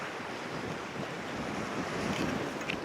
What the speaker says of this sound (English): Down here's the beach.